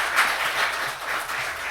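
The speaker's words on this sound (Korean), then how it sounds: "큰 격려의 박수, 환영의 박수 드리면서" At a Baptist church Sunday evening service, an audience claps to welcome a guest speaker, a brief, soft, continuous patter of many hands heard from some distance.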